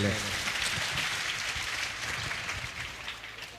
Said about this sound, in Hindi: इनके लिए जोरदार तालियां होनी चाहिए सबसे पहले।